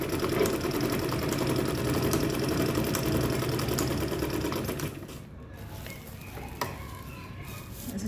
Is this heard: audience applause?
no